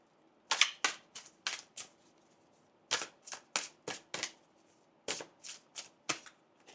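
Oracle cards are shuffled by hand close up in a rapid series of crisp riffling snaps, two bursts with a short pause between them, no voices.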